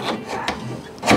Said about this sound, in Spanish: hay que encajarla en este hueco por acá